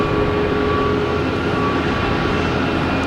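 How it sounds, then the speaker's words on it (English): A JetBlue Airbus A320 takes off at Boston Logan Airport, its jet engines a loud, steady broadband roar with a faint whine layered on top. "next taking off is JetBlue, an A320, heading to Tampa"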